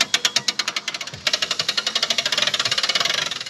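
A hand crank is turned to raise the roof of a 2003 Palomino Yearling pop-up camper, giving a fast, regular clicking ratchet that stays close and steady, pauses briefly, then carries on without any speech.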